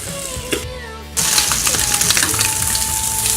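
Spam fried rice mixture sizzling in a frying pan, a steady crackling hiss that jumps louder after a brief quieter stretch, close and continuous.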